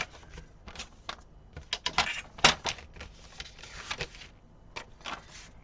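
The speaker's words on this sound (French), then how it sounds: "Donc on va déjà marquer nos petits plis." Quick scraping and tapping strokes as fold lines are scored into paper for a hexagonal scrapbook box, irregular bursts of crisp scratches close by and quiet, with one sharper snap midway.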